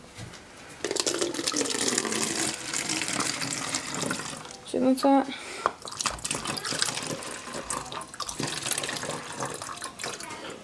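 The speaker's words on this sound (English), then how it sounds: "Pour some water in here." Water is poured from a container through a funnel into a bottle, making a continuous close splashing trickle for most of the stretch, with a voice speaking briefly over it.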